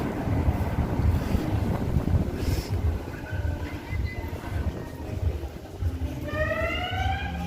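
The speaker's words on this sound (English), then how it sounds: "Just to let you know that it was the police. Puts his siren on." A police car siren sounds on a street in Mons during the Doudou festivities, its wailing rising tones coming in near the end over heavy wind rumble and street bustle.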